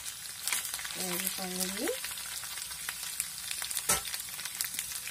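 Ginger garlic paste sizzles steadily in a hot pan for chicken curry, a bright crackling fry with a clink of a utensil; a voice speaks briefly over it.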